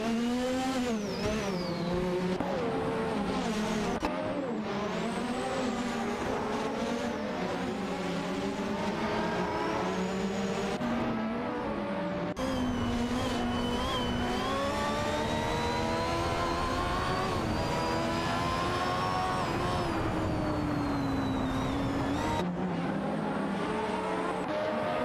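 Formula 1 race cars in a racing video game, including Williams FW12 and Ferrari F1/87/88C, scream along with high, rising and falling engine whines, several cars overlapping and shifting gears continuously, with no voices.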